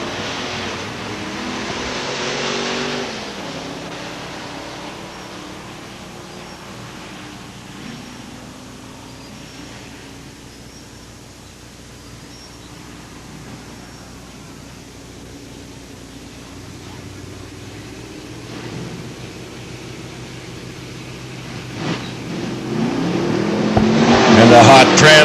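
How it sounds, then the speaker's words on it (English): Drag racing at London Motorsports Park in 1992, a 1991 Mustang lined up against a 1986 Corvette: distant engine roar swelling and fading, then rising loud near the end, with an announcer talking over it. "Wayne Campbell up at the line in his 1991 Mustang against Bill Claus with his 86 Corvette from Elmer."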